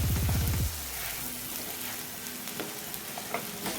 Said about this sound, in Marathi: मी इथे तूप घालणार आहे आणि छान याला भाजून घ्यायचं